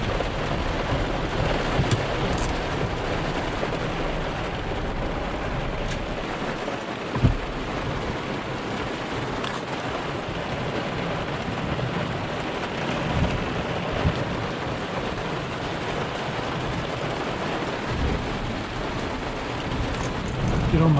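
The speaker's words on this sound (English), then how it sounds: "Good storm" Heavy rain pours in a Texas thunderstorm, a dense, constant roar of downpour with low rumbles of thunder rolling underneath and one sharper knock midway.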